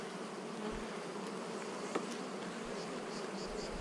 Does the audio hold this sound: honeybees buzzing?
yes